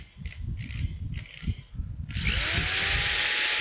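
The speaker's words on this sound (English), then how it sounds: "This drill bit does not cut it too strong here." A drill bit bores into wood turning on a lathe while a birdhouse ornament is made: a few uneven grinding bursts, then a loud steady whine as the bit bites in and keeps cutting.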